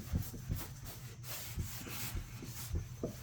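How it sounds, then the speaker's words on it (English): Adhesive residue gets scrubbed off the painted body of a 2022 Chevrolet Suburban: quiet, rhythmic back-and-forth rubbing strokes at about two per second, close and soft, with no voices. "we're scrubbing the heck out of this"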